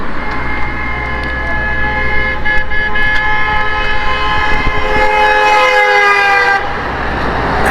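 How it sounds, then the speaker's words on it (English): A car horn blares on a street in Cathedral City, holding one long, loud, sustained blast for most of the clip before cutting off near the end. It rises over the traffic noise. "I have no idea who that guy's honking at."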